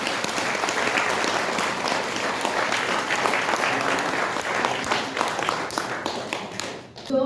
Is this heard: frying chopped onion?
no